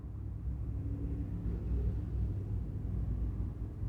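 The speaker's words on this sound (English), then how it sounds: "Traffic from a different street." Distant traffic rolls along another street, heard from home as a faint, steady low rumble with no distinct passing vehicles and no voices.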